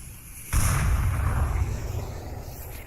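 A grenade explodes in the VR shooter Onward during a championship match, a sudden loud boom that hits half a second in and rumbles on with a slowly fading, noisy tail.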